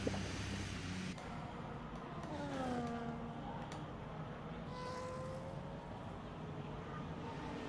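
Racing cars in a video game race at Imola whine past, with engine pitches sweeping up and down as several cars close in and pass, blended with steady wind-like hiss at moderate level.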